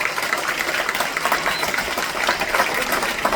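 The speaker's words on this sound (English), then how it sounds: "Give her a big round of applause" An audience claps for a six-year-old girl's dance performance at a dance school event, a dense, steady patter of applause that stays loud throughout.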